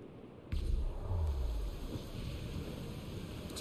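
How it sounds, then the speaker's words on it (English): Storm waves and wind at sea aboard a sailing ship in Assassin's Creed IV: Black Flag, a sudden heavy rush of water and gusting wind that keeps surging and roaring steadily, with no talk. "Just like I thought. Bad waves are coming."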